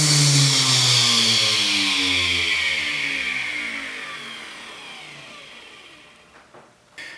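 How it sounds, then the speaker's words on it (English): A powerful 112-horsepower motor on a new table saw runs alone, starting loud and steady with a falling, winding-down pitch that fades gradually, followed by a couple of faint clicks near the end. "Just listen to that powerful motor."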